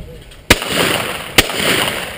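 Two sharp shotgun blasts about a second apart on a sporting clays course, fired at clay targets, each with a short ringing tail over outdoor wind noise.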